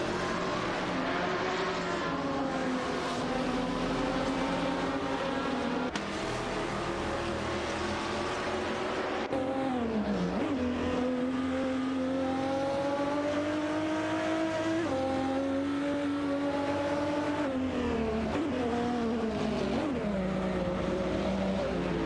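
Race cars in an AI racing video game, a Ford GT among them, roar continuously for over twenty seconds with overlapping engine whines that rise and fall through gear shifts, loud and dense, with no talk.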